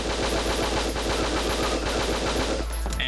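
Rapid automatic gunfire from the PS3 action game Winback, a steady rattling burst of evenly spaced shots running for about two and a half seconds before cutting off, loud and without talk.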